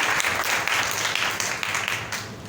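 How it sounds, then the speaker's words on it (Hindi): Applause from a church congregation clapping for God, a dense steady wash of many hands filling the room at full loudness, with faint voices mixed in. "चलो जोरदार तालियां बजाएं खुदा के लिए"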